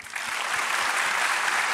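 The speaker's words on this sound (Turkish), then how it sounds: "Evet diyenler alkışlasın" A studio audience at a Turkish talent show bursts into dense, steady applause that rises quickly and holds at an even, fairly loud level for under two seconds.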